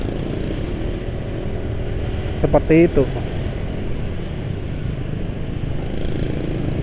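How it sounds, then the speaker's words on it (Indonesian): A car engine running on mineral oil idles with a steady, even low hum that continues throughout, while a voice speaks briefly over it near the middle. "Halus suara mesin mobil penulis pakai mesan, pakai oli yang katanya mineral ya."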